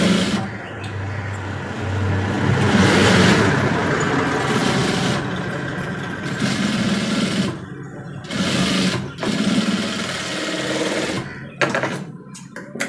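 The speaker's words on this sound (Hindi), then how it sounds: "तो मैं आपको लब की सिलाई लगा के दिखा देता हूँ" Sewing machine stitching a crossed pocket seam, running in loud continuous whirring bursts with short pauses between runs and a few brief stops near the end.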